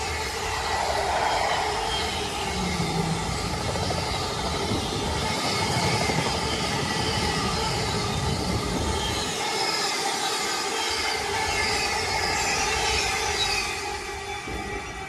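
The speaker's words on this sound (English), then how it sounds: "we've got another freight train" A freight train hauled by locomotive 66556 rumbles past steadily for the whole stretch, loud and close, with rolling wheel noise and faint metallic squeal over a continuous roar.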